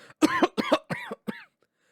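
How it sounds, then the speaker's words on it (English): Four rough coughs in quick succession, loud and close, from a video game character collapsing to their knees, each a short harsh burst fading weaker, then silence. "I collapse to my knees and cough."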